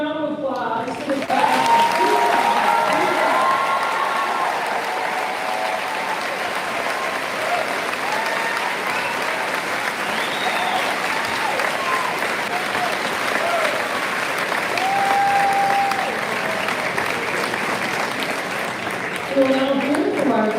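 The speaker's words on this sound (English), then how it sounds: "Let's give a big round of applause to the" Sustained applause from a large audience at a high school graduation ceremony, loud and steady for about twenty seconds, with crowd noise throughout.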